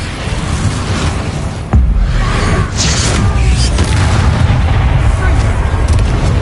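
Hogwarts Legacy Confringo blasting spell detonating with a loud boom that kicks in sharply and leaves a sustained rumbling roar, with a voice speaking during the blast.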